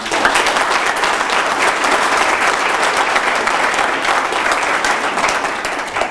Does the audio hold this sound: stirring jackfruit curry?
no